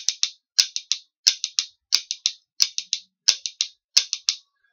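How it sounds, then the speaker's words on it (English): Rhythm bones tapping out a galloping pattern with triplets on beats two and four: crisp, close wooden clicks grouped in repeating bursts of three, steady and alone. "for galloping, we're going to be playing a triplet on beats 2 and 4."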